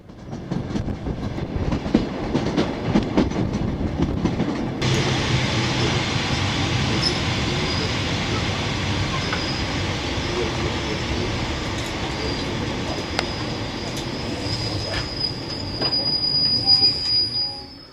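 A passenger train runs east across flat steppe beyond the Volga, its wheels squealing on the rails in a loud, continuous roar with clicking joints and a rising metallic screech near the end.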